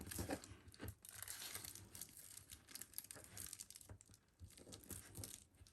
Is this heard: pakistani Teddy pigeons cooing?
no